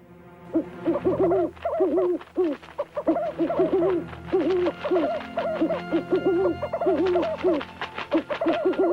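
Cartoon owls hooting in rapid repeated calls, loud and close, with overlapping bursts that rise and fall across the scene; no speech.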